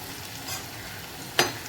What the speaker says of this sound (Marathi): पहिले भजी सुद्धा असेच फ्राय करून घ्यायचे आपल्याला.